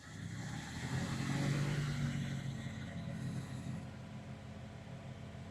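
A Ram 1500 truck engine held steady at a raised 2,000-3,000 RPM, a continuous mid-pitched hum that swells slightly and then stays constant throughout, with no talk.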